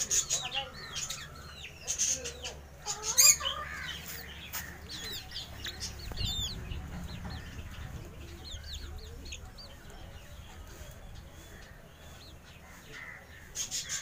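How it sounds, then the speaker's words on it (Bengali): Small caged birds, stated as budgerigars, chatter and chirp in rapid bursts at an enclosure in a snake park beside Panchet Dam, with clucking fowl and distant background murmur underneath. "ওপরে বদ্রি পাখিও রয়েছে"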